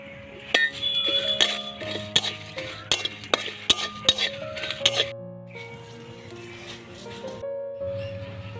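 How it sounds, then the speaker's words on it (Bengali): Cumin, dried red chili and bay leaf dry roasting in an empty pan, sharp metallic clinks and scraping stirs over a faint rattle, with a musical background tone and a voice speaking softly. "এবার আমি শুকনো খোলায় জিরে, শুকনো লঙ্কা, তেজপাতা এটা ভেজে নেব"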